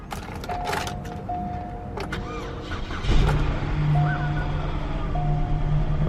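A car bought cheaply at auction starts up after a jump start, the engine catching and settling into a steady idle, with chimes and beeps sounding before and after.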